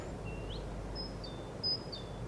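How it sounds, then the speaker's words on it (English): Birds chirping outdoors near an upper deck, heard as a few faint, thin whistled calls spaced over a couple of seconds against a quiet background hum. "hear the birds chirp."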